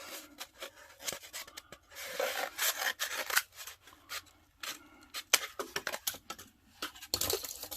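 Scissors snipping and rasping through a tissue roll up close, an irregular run of quiet crinkly cuts and rustles with brief pauses between them.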